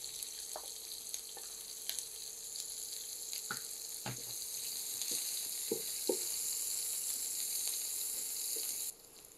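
Garlic, onion and dried chili fry in hot oil with a steady, moderately faint sizzle, broken by a few sharp pops and spatters, with no voices.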